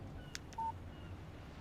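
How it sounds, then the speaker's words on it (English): Phone text message alert in the video game Alan Wake: a brief, faint electronic beep tone, preceded by a couple of tiny clicks, against quiet background hum. "Text message from Barry"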